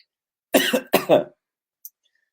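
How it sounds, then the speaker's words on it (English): A person recovering from COVID-19 coughs twice in close succession, fairly close and clear, and a short faint throat sound follows after a pause. "I'm still kind of recovering here, so I apologize as I'm grasping for air and coughing"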